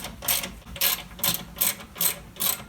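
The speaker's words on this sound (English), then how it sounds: "you roll your window back up just a little bit to get this first one" A Mazda Miata door window being rolled up by hand crank, giving a rhythmic series of six ratcheting, clicking mechanical strokes at steady intervals, close and clear with no talking.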